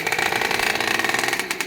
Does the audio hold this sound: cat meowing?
no